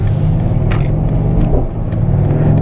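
A 2021 Mercedes-Benz AMG GT53 4Matic accelerates in comfort mode, its engine a loud, steady rumble close by that holds through the pull with a slight dip midway.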